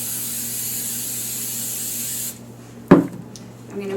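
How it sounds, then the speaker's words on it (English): A steady hiss of cooking spray onto a baking sheet runs for about two seconds, then cuts off, followed by a sharp knock and quiet handling sounds. "Then I'm going to spray a baking sheet with cooking spray."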